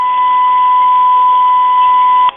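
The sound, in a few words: answering machine beeping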